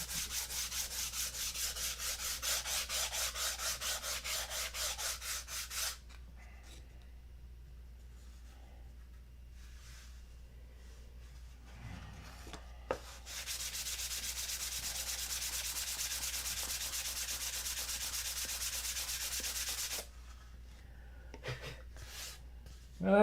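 Wood is hand-sanded in rapid, rhythmic back-and-forth strokes. The quiet scratching comes in two long bursts separated by a stretch of near silence.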